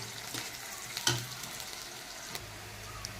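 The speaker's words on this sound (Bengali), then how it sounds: "পেঁয়াজটা আমার হাফ ভাজা হয়েছে।" Onions sizzling in a pan, half-fried, with a steady soft crackle and a couple of sharp utensil knocks over the hiss; no speech.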